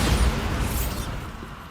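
Bombarda spell blast in Hogwarts Legacy: a sharp, booming explosion that bursts at once and then decays into a rumbling tail, heard alone.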